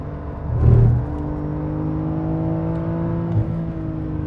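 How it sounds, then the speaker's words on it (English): Porsche Carrera S 2019 flat-six engine on a downshift through a triple-apex right-hand corner, a steady breathy hum with a brief louder blip early on, heard from inside the car. "I reckon they've got that beautiful breathy flat six sound back. Listen to that on downshift."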